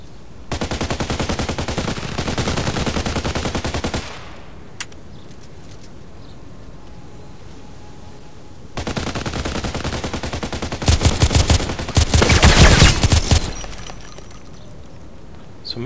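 Rapid automatic fire from an H&K 416c rifle in the shooter game Contract Wars, two sustained loud bursts of densely packed shots separated by a quieter pause, the second burst ending in heavier, louder fire.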